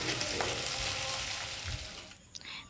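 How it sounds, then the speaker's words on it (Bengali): Small puti fish frying in a pan make a steady broadband sizzle that gradually tapers off toward the end, with a few light clicks of the utensil. "এদিকে আমি চুনোপুটি মাছটা আমি ভেজে নিচ্ছি"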